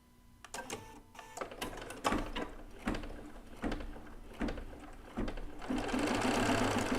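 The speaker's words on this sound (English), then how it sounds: "Now we're going to do a placement stitch for a shirt detail." A Bernina B990 embroidery machine stitching a placement outline for a rag doll shirt detail, with a steady rapid mechanical needle rhythm, motor whir and periodic clacks, close and continuous.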